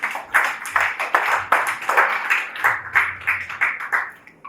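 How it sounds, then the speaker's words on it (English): A conference audience claps for a legal scholar, a fairly sparse round of individual hand claps in an uneven rhythm, moderately close, fading slightly toward the end with no voices. "Please, let's give him a round of applause."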